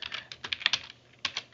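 Keystrokes on a computer keyboard, typed in short irregular bursts of close, crisp clicks with a brief pause before a final few taps.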